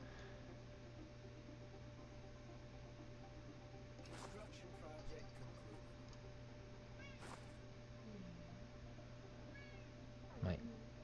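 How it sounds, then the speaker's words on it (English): A pet cat meows indoors, a few short near calls scattered over a steady electronic hum, with a louder, longer meow near the end and a voice talking faintly in the background. "My kitty is very chatty."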